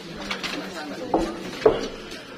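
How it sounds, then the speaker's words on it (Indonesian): Pigeons or doves cooing during an outdoor funeral burial procession, a few soft coos amid faint background voices and clinks. "Burung."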